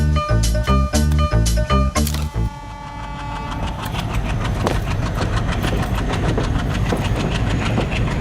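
A train pulls away from a station, first with strong horn or whistle blasts, then a rising clatter of wheels and rolling carriages building into continuous rhythmic clicking.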